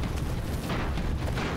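Booming cannon fire from airships in the video game Airships: Conquer the Skies, a dense continuous rumble of overlapping low blasts and bursts with no clear gaps, loud and close throughout.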